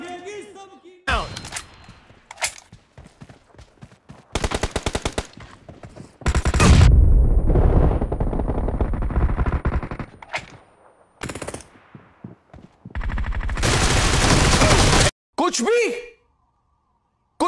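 Gunfire in PUBG team deathmatch, loud rapid automatic bursts alternating with short gaps and single shots, with a player's voice calling out between bursts.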